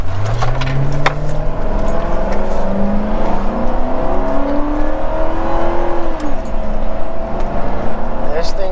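A 2010 Ford Crown Victoria Police Interceptor is driven with a steady, loud cabin engine drone whose pitch rises and falls through gear changes, heavy road rumble underneath, and people talking over it.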